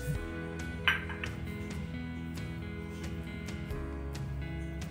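A spoon clinks and scrapes against a bowl while spices are mixed into raw chicken for a garlicky lahsuni chicken marinade; there are a few sharp metallic taps, one louder clink near the start, and no talking.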